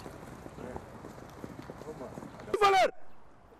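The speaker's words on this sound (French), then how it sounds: "La police montée est dotée de chevaux de race espagnole" Spanish-breed mounted police horses clop their hooves at a steady walking pace, followed by a sharp horse whinny near the end, heard outdoors with voices talking in the background.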